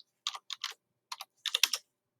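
Close, quiet typing on a computer keyboard, several quick clusters of keystrokes separated by short pauses, with no other sound around them.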